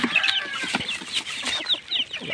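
Busy clucking from chickens, with a hen's low calls mixed with high peeping chicks, continuous and close, with scattered knocks and scratching.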